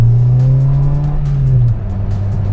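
A Honda Integra Type-R DC2 drives, its naturally aspirated engine humming loud and close at a steady tone that then drops as the revs fall.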